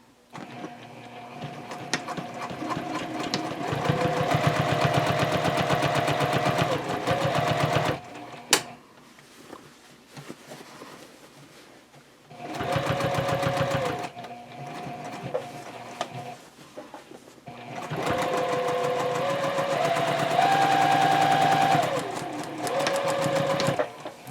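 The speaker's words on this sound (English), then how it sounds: "Drop your presser foot and then just start stitching again." A sewing machine stitches the side seam of a drawstring tote bag in three steady, close bursts of rapid mechanical whirring, separated by brief pauses.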